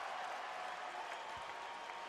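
An arena crowd at a Lakers vs Raptors basketball game cheers and applauds Kobe Bryant's career-high scoring night, a dense, steady wash of clapping and roaring heard from a distance, continuous throughout.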